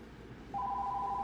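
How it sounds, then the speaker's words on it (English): A telephone rings in a lecture room: a steady electronic ringing tone begins partway through and holds evenly to the end, moderately loud over a quiet background with no talking. "Phone ringing."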